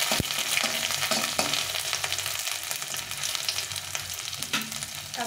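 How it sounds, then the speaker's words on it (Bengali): Crushed ginger frying in hot oil in a pan for a vegetarian vegetable curry, a steady close sizzle with occasional stirring scrapes and light clicks of a utensil against the pan, no talking. "প্রথমে আদাটা দিয়ে নিয়ে একটু ভেজে নেব।"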